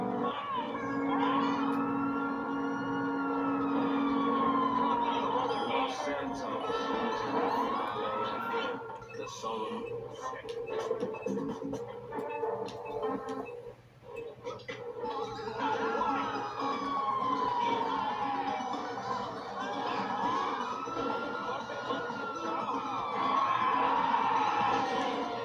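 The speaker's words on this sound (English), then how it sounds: "Still has a siren" Emergency vehicle siren in the video game GTA 5, wailing up and down in repeated sweeping cycles for the whole stretch, loud and close, overlapping with background crowd noise and other game sounds.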